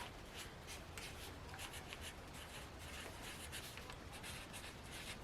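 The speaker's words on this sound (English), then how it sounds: "you're going to start off by writing out your need on this paper" A permanent marker scratches and rubs steadily across paper at close range, with continuous squeaky strokes and no speech.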